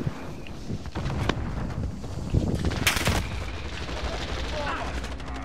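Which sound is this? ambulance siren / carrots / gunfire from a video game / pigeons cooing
gunfire from a video game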